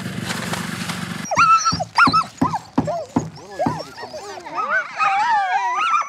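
A dog in the remote Canadian wilderness yelping, whimpering and barking in quick bursts at close range, following a short stretch of harsh noise at the start.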